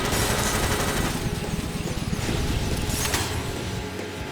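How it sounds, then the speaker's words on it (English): Rapid bursts from the Vulcan Fury machine gun in the combat racing game Jak X, a dense rattling stream of shots over engine roar and game noise, loud and continuous. "It's called the Vulcan Fury because that was the machine gun."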